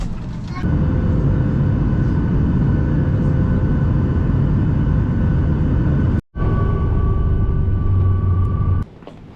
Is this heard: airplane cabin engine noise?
yes